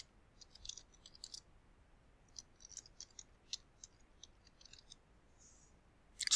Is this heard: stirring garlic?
no